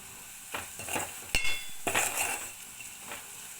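Bitter gourd fry with sesame powder being stirred in a pan: a soft sizzle with scraping spoon strokes and a sharp metallic clink against the pan, a few strokes spaced apart.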